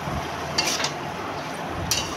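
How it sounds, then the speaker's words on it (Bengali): Spoon or spatula stirring fish oil into cauliflower stalks in a wok over medium heat, faint scraping with a few brief clinks of metal against the pan, no talking. "এবার ভালো করে মিশিয়ে মিশিয়ে নাড়তে হবে, যাতে সবজিগুলির সঙ্গে খুব ভালোভাবে মিশে যেতে পারে।"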